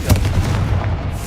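A short, punchy explosion from the Confringo blasting spell in the video game Hogwarts Legacy, one loud thump with a brief rumbling tail.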